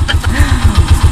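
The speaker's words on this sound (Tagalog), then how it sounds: "Kaya painit ko lang guys yung motor." A motorcycle engine idles while warming up before a market trip in the province, a loud, close, steady pulsing rumble.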